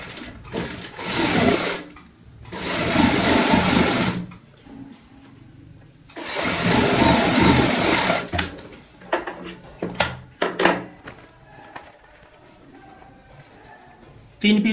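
Sewing machine stitching baby girl cap pieces together, running in two long bursts of steady whirring separated by short pauses, then a few brief clicks and taps of handling the fabric.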